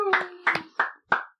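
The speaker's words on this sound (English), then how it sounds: "Is it gauche to clap for yourself?" Four sharp hand claps ring out close and loud at a slightly uneven pace, with a sustained voice tone underneath the first two.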